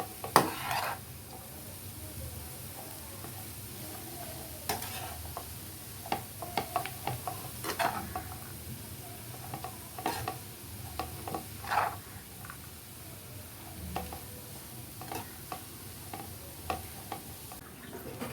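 Cabbage stir-frying in coconut oil in a pan for a South Indian poriyal gives a soft, low sizzle broken by scattered spatula clicks and scrapes, faint and alone.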